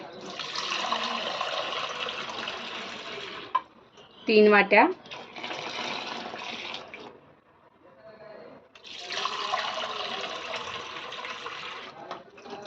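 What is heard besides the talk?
cold water being poured into a bowl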